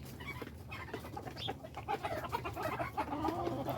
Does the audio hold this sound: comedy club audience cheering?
no